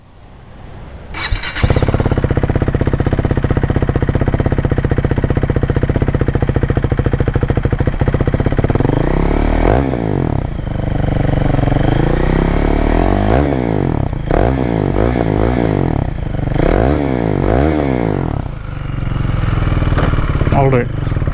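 A KTM Duke 390 single-cylinder motorcycle with about 35,000 km on it starts up, then settles into a loud, close idle broken by several sharp throttle blips with quick revving rises and falls.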